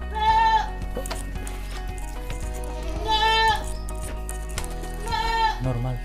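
A goat bleats three times in loud, wavering calls spaced a few seconds apart, with a low background hum and faint voices in between.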